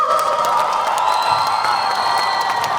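A concert crowd cheers and whoops steadily for a singer introduced to perform a song, a continuous loud roar of shouting voices with scattered clapping throughout.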